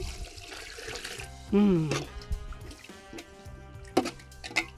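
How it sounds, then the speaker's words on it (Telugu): Ghee-flavoured water left from frying is poured into a pot of vegetable biryani, a short, close splash and trickle with a few faint drips after. "అది వేస్ట్గా పోతుందని నీళ్ళు పోసేసి ఆ నీళ్ళు ఇప్పుడు దీనిలో పోస్తున్నాం"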